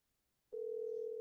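A telephone call tone: after half a second of near silence, a single steady, clean tone starts abruptly and holds, faint and alone on the line.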